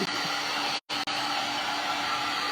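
Heat gun blowing hot air while drying paint on a thrift store chair being upcycled, a steady broadband whoosh held close and loud for the whole stretch, with one brief cutout partway through.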